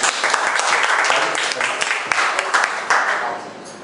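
An audience claps warmly to welcome a speaker at a self-introduction gathering, with dense, continuous applause filling the room for several seconds before easing off slightly at the end.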